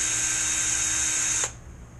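Power drill spinning a threaded rod chucked by its non-threaded end during an RC gas boat radio box build: a steady, close, high-pitched motor whine that runs for about a second and a half, then cuts off abruptly.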